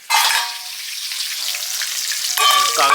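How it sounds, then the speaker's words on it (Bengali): Steady, loud sizzling of rohu fish pieces frying in hot oil, with a brief clatter of utensils near the end. "এখন বৌদি যখন ভাজছে এখন কিন্তু পুরো সলিড হয়ে আসছে"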